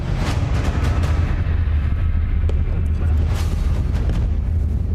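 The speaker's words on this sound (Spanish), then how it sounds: "se comienzan a escuchar los fuegos artificiales" Deep booms of fireworks going off in the distance, rolling under a constant crowd-like rumble, with a few sharper cracks scattered through.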